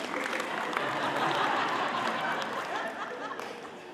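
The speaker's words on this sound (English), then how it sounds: "Let's give them applause as they come down" College convocation crowd applauding as people come down, a dense, even wash of many hands clapping at moderate distance, swelling slightly then easing over a few seconds.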